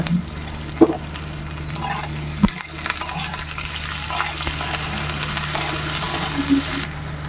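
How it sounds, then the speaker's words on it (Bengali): Cubed capsicum and tomato fry in a pan with a steady close sizzle, broken by a few stirring scrapes and clinks of a spatula against the pan. "কিউব করে রাখা ক্যাপসিকাম আর কিউব করে কেটে রাখা টমেটো এগুলোকে আমরা হালকা ভেজে নেবো"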